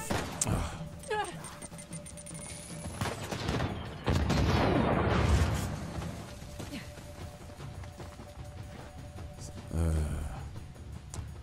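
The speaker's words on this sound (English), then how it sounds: "They just spam you with grenades." Grenade explosions and gunfire in a shooter video game. Repeated bursts and booms crash through the clip, with a heavy blast in the middle and another near the end over a constant background.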